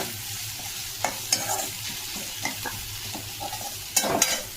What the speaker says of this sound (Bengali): সব কিছু আমি ভেজে নিই।